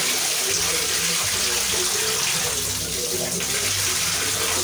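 A duckling splashes and bathes in a water basin, with continuous close running and gushing water throughout, a bit like a filling tub, and faint background sounds underneath.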